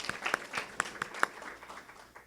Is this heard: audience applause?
yes